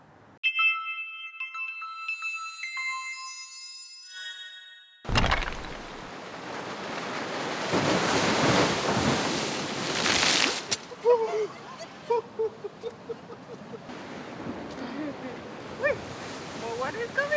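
Ocean surf rolls in with a loud rushing wash of water and wind buffeting, after a stretch of music; voices come through briefly later.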